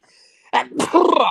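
A person sneezes once, loud and close: a sharp burst followed by a drawn-out, noisy exhalation, with quiet room tone before it.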